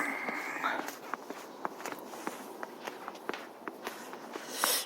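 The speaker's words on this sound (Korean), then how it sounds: "제 발자국 소리가 뽀드득 그 눈길을 걸어가는 그 소리가 장난네요" Footsteps crunching through fresh snow on a village path, a steady walking rhythm of crisp squeaky crunches, close by, with a brief rise of noise at the end.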